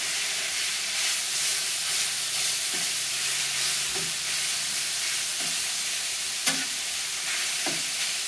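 Chopped, seasoned chicken breast sizzling on a Gabby's Grills flat-top griddle, a steady loud hiss of frying with occasional scrapes and taps of a spatula, no voices.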